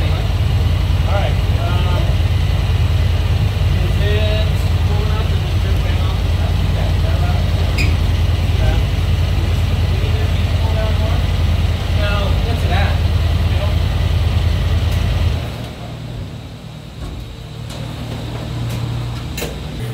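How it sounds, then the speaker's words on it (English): Honda Talon 1000R engine running on a four-wheel drive dyno, a loud sustained mechanical roar and hum that drops off near the end into a quieter idle, with people talking over it. "So we just did the dyno run on the Talon R."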